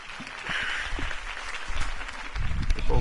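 A video-game crowd applauds after a mayoral campaign speech, a broad wash of clapping that swells toward the end, moderately loud and somewhat distant, with a few indistinct voices mixed in.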